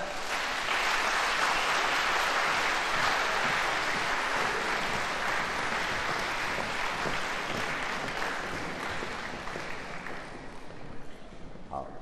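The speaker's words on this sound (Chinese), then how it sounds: "让我们掌声欢迎他们上台" Concert audience applauding as an erhu ensemble walks onto the stage: a dense, steady wash of clapping from many hands that holds for several seconds and then eases off toward the end.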